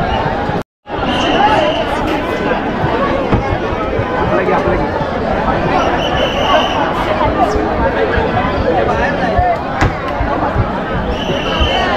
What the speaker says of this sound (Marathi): ही बघा गर्दी, बघा गर्दी कसली आहे